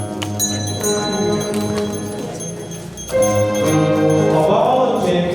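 Bells carried by bell bearers into a church wedding ceremony ring with bright, repeated metallic strikes over a sustained low tonal background, steady and fairly loud, with no talking.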